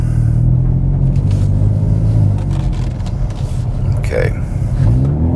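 A 2019 Hyundai Veloster N accelerating, heard from inside the cabin as a steady, loud low engine drone and road rumble, with a person briefly speaking over it.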